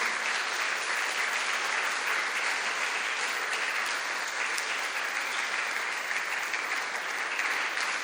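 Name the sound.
applause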